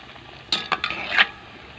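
Jackfruit snack pieces frying in hot oil and turned with a metal utensil: a few quick close scraping and clinking strokes over a soft sizzle, short and alone.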